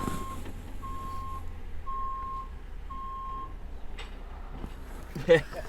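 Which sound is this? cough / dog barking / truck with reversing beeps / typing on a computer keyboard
truck with reversing beeps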